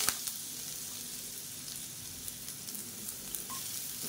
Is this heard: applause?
no